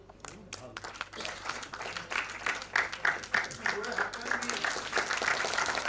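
An audience at a Bengali association gathering breaks into applause that swells from scattered claps into sustained, fairly distant clapping, with a voice over the top.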